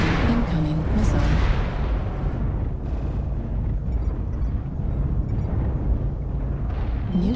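Loud booming blasts and rumbling explosion noise from an incoming missile strike in a combat video game play continuously, with a brief electronic warning tone near the start and no speech heard.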